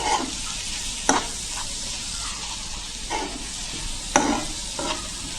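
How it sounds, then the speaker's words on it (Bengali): Chopped onion fries in a pan with a continuous close sizzle, broken by several sharp scraping strokes as a spatula stirs it at irregular intervals. "পেঁয়াজটা নরম হওয়া পর্যন্ত ভাজবো।"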